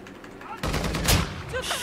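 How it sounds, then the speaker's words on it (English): In the DMZ video game, a sudden burst of rapid gunfire breaks out, loud and close, with cracking shots following one another. "Where am I being shot from?"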